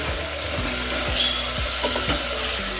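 Brinjal pieces for vangi bath being stirred in a hot pan, with steady frying sizzle and a spatula scraping at a regular rhythm about every half second, close and moderately loud.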